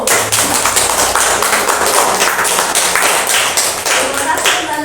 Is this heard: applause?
yes